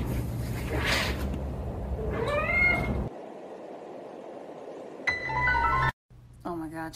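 A cat meows in short, separate calls, a couple of rising whiny mews with a pause between, close by, while people talk around them.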